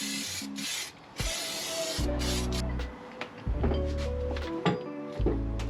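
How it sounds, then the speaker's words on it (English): Bursts of aerosol weld-through primer hiss from a spray can onto the steel floor pan and A-pillar repair panels of an MG Midget, several short sprays broken by gaps, with clunks of handling between them, close and moderately loud. "a good spray of weld-through primer on all the bits I won't be able to clean up"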